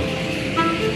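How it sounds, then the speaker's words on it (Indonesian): A short, thin electronic horn on an electric bicycle beeps a few times over a steady hum of nearby traffic. "Nah ini klaksonnya bunyi Pak."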